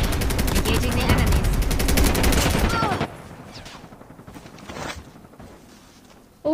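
Loud rapid automatic gunfire in Call of Duty Mobile battle royale, coming from behind the player, a continuous burst for about three seconds before dropping to quieter game ambience, with a sharp sound at the very end.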